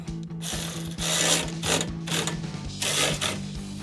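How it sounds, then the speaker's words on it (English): A ratchet wrench clicks in quick bursts while bolting down a transmission cooler bracket on a 1999-2013 Chevrolet Silverado 1500, close and loud, with steady ratcheting and brief pauses between strokes. "I'm just gonna bolt her all down."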